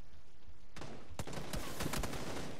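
Video game gunfire: a few sharp shots, then a rapid burst of automatic fire, muffled and fairly faint, over a low background with no talking.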